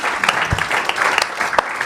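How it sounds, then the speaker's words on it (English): An audience at a couples' evening applauds a husband and wife for 21 years of marriage, dense, continuous clapping filling the room for a couple of seconds, with a few louder individual claps standing out. "that deserves a clap"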